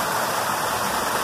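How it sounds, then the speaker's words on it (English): A natural waterfall pours steadily down a hillside in Port Deposit, Maryland, a continuous broadband rush of falling water that stays close and loud for the whole stretch, with no voices. "there's this natural occurring waterfall that comes all the way down"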